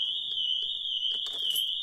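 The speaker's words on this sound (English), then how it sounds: "alarm's going off" A Pandora car alarm sounding, a steady piercing high electronic tone held continuously and loud, with faint handling noise partway through.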